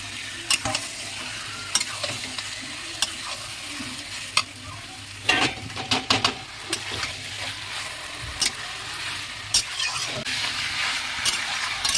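Chicken pieces fry in a spiced curry paste in a pan, giving a steady sizzle broken by frequent scraping stirs and spoon knocks against the metal, close and busy over the full stretch with no talking.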